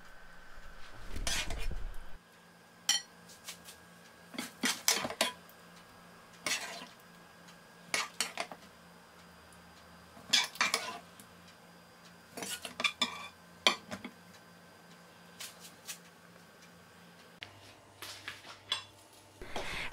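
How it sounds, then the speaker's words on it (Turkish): Spoon scraping and clinking against a pan while minced meat filling is spread over fried eggplant slices, a run of short irregular taps and scrapes at close range with quiet gaps between them. "kıyma harcı kızartmış olduğumuz patlıcanlarımızın üzerine yaklaşık 2 yemek kaşığı kadar bolca pay edelim"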